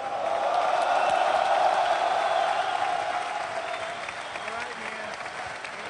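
A large boxing-event crowd applauds and cheers for the fighters, a dense, loud wash of clapping and voices that peaks early and slowly tapers off across the whole stretch.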